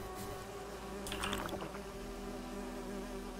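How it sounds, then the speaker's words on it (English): Bees buzz in the video game Witcher 3, a steady insect drone over constant game ambience that swells briefly partway through. "The bees, the bees. Oh, the bees."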